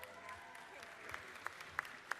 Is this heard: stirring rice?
no